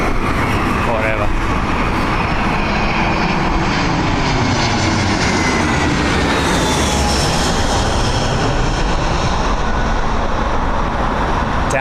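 A Finnair Airbus A350 airliner on a low approach at Heathrow, its engines a loud, continuous roar that fills the whole stretch, steady and close overhead.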